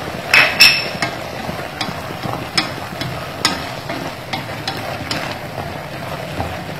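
Potatoes stir-frying in a pan as garlic is added, with soft sizzling beneath a series of sharp clanks and scrapes of a utensil against the pan, louder at the start and then spaced out.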